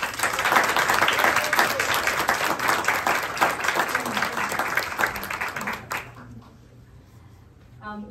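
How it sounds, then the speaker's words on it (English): Audience applause at an economic briefing in honor of a U.S. senator, dense steady clapping from a room of people that fades out around six seconds, leaving quiet room tone. "Let's give him a round of applause."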